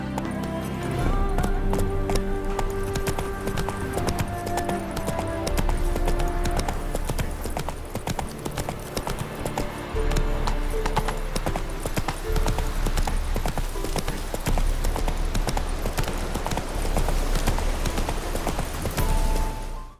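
Horse galloping in The Witcher 3: Wild Hunt, a continuous rapid clip-clop of hooves running without pause, loud and close under a dense bed of game music.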